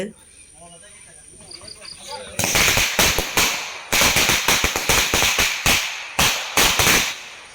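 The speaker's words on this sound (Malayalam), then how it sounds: "ഇവിടെ നിന്നിട്ടാണ് ബാക്കി പടക്കം പൊട്ടിക്കലും" Quiet rustling with faint voices outdoors in a yard during Vishu festivities, then a rapid string of loud firecracker bangs bursting close by in an uneven crackling sequence.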